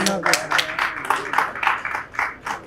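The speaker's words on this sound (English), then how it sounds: "May I request all of you to give a huge round of applause" Rhythmic clapping rings out in quick regular bursts, with a voice speaking over the start.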